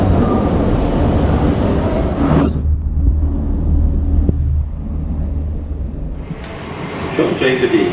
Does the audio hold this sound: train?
yes